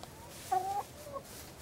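Backyard chickens make a couple of short, tonal clucks against steady outdoor background noise, moderately close and with no voices.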